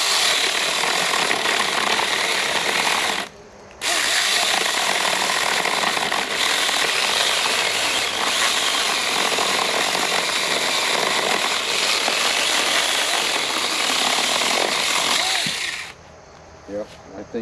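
Two small battery mini chainsaws, a Sainlogic and a Saker, cut through a log, producing a loud continuous buzzing whine with a brief drop near the start. The cut runs steadily for about twelve more seconds before the saw cuts out.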